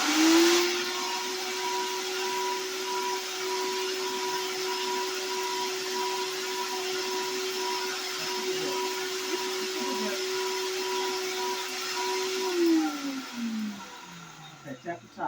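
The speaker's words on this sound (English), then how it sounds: "Don't overstuff your blender like we did." A blender whirs continuously at high speed while blending organic garden fertilizer, a loud, steady motor whine lasting about twelve seconds before spinning down, with light handling noise at the end.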